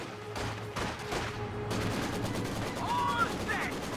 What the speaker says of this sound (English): Incendiary grenade out before the Maxim started firing.